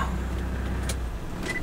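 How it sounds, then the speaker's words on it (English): A car's engine idles with a steady low rumble heard from inside the vehicle, accompanied by a few light clicks and rattles as it keeps running. "don't turn off the car"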